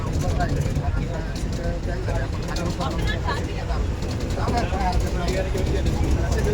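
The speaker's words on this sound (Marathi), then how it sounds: "आपली बस निघालेली" An MSRTC Tata bus on the Pandharpur to Shirdi route pulls away, its engine a steady rumbling drone heard from inside the cabin, with people talking over it continuously.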